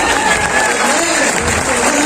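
Continuous crowd applause at a company anniversary event in a hotel in Pilibhit, India, a thick wash of clapping at steady volume with a faint voice or tone running underneath.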